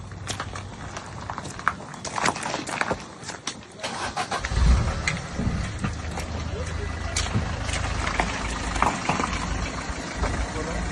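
A car engine revs and strains on a flooded, washed-out road turned into a stream, with a rough rising roar and clatter beneath people talking nearby, fairly close and persistent.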